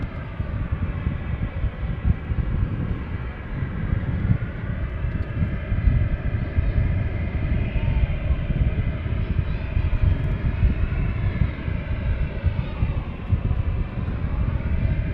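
A Ryanair Boeing 737 taxis at Manchester Airport, its jet engines giving a steady, loud broadband roar with a constant whine that holds unbroken from start to end, with no talking.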